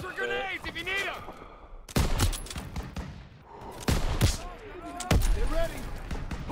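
Call of Duty WW2 battle gunfire: heavy shots and bursts thump in repeatedly, loud and close, mixed with shouting soldiers' voices throughout.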